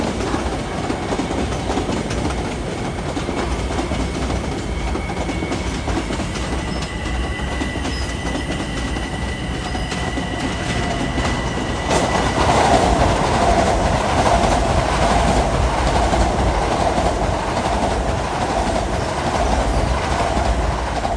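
LIRR commuter train passing through Queens Village station, a steady rolling clatter of wheels on rails with faint squealing that grows louder partway through, no voices.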